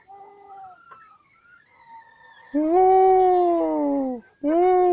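A rooster kept in a hutch lets out faint, wavering calls, then two loud, close, drawn-out crows, the second cut short after a brief pause.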